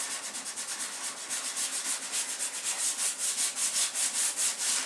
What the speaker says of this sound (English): take the corner of the sandpaper that you have and go around in a circular pattern right around the circles